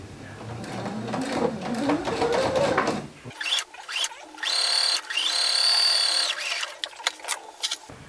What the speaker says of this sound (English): We're gonna sew along the edge 1/4 of an inch.